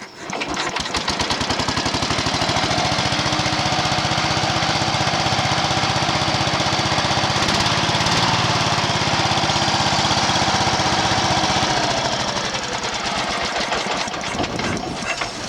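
A hot-wired Allis Chalmers 716H lawn tractor engine with its original carburetor cleaned runs at a steady, loud, rattling idle for most of the stretch, then fades toward the end.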